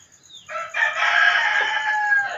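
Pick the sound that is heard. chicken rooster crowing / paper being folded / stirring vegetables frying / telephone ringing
chicken rooster crowing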